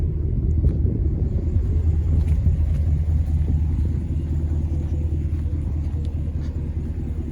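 A 2014 Ram 1500 pickup's 5.7-liter Hemi V8 with dual exhaust idles steadily with a deep, continuous rumble, close by and unchanging throughout.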